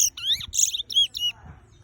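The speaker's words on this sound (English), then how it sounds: "This is the beauty of these birds. The bullfinch." Bright, whistled calls from a bullfinch, a cluster of chirps and rising and falling notes repeated several times in close succession, fairly loud and near, ending with a faint low rustle.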